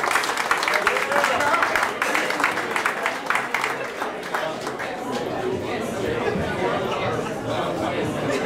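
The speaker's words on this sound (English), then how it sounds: "Coach James Rice, give him a big round of applause." Audience applause for Coach James Rice at a live community event, dense clapping mixed with crowd chatter, strongest at the start and thinning into general hubbub.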